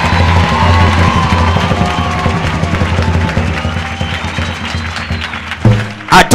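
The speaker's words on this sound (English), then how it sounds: "Are you clapping for Jesus?" A church congregation applauds and cheers, a loud, close crowd with dense clapping and shouts running throughout, ending in a burst of louder cries.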